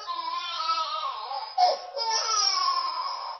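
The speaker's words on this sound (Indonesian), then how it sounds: "mereka mendengar suara bayi menangis di semak duri di dekatnya" A baby wails in long, high, strained cries with a brief break in the middle, close by and loud.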